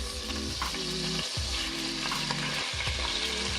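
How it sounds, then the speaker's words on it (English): Onions frying in oil left from sardines while being stirred, a dense, steady sizzle up close with occasional stirring scrapes and no talk. "from the sardines to fry the onions. Add in the onions"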